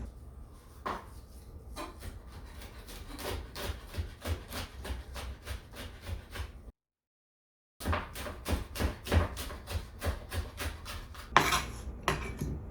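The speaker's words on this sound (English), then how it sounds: "let's chop this up quickly and then drop that on top of our pork" Knife chopping fresh thyme and spices on a cutting board, a steady run of crisp, fairly close taps with a short pause midway, then more rapid chopping, with no talking.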